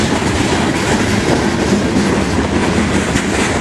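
A CSX freight train hauling clip hopper cars rolls past at Folkston, close and loud, with a continuous rumble and rhythmic wheel clatter over the rails.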